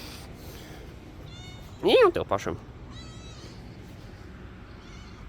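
A cat meows once in a short, clear rising-and-falling cry, loud and close, indoors in a hotel in Vietnam; a person talks quietly before and after it.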